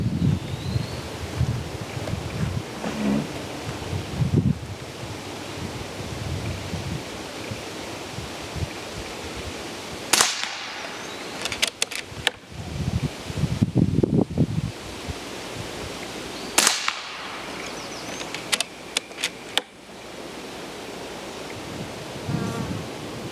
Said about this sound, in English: let's shoot a 5-shot group and see what kind of accuracy we're getting